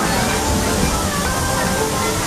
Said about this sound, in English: Here's this waterfall.